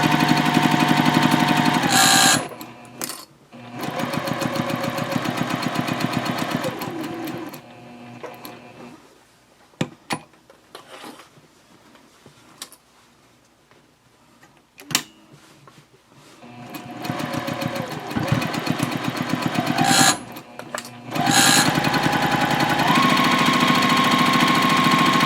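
A sewing machine stitching tote bag pocket pieces together, loud rapid mechanical whirring in long runs with pauses and faint handling sounds between seams.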